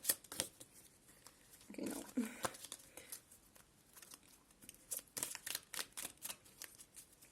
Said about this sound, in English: maybe you can enjoy some shuffling ASMR